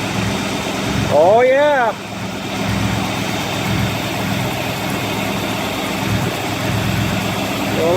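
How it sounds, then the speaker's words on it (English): A Buick car engine idling after a cold start, a steady low mechanical hum running throughout at close range, with a man briefly exclaiming over it early on. "She's idling like a dream."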